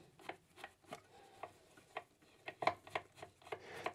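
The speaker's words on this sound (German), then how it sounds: "Den einfach mal aufschrauben." Screw being undone on a Eureka Mignon coffee grinder, a string of soft, close, rhythmic clicks and scrapes from the screwdriver, quiet and with no talking.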